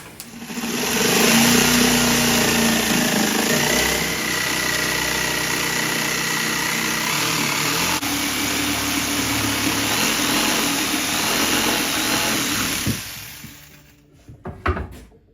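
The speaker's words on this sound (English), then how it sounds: "Now all I have to do is cut this out. I'm thinking jigsaw." A jigsaw cuts out a wooden vanity shelf with a loud, continuous buzzing drone that holds steady for about thirteen seconds, then stops with a few clatters and knocks.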